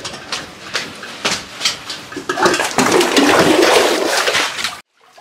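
Water splashing and gushing into a bucket, opening with a few separate splashes that build into a continuous rushing pour before cutting off abruptly near the end.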